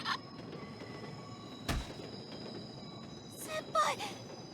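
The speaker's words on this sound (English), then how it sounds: "The sound of a train." A train passes a level crossing in the visual novel Chaos;Child, a low steady rolling rumble with thin sustained tones and a few sharp clanks, quiet and even throughout, with a voice speaking over it.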